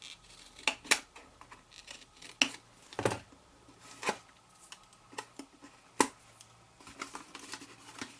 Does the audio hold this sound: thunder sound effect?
no